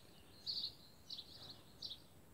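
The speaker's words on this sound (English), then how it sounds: "I hope you can hear the birds sing." A few faint, high bird chirps sound in short bursts, distant against a quiet outdoor background.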